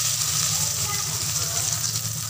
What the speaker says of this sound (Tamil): எண்ணெய் சூடாயிடுச்சு. இப்போ வெங்காயம் போட்டுக்கலாம்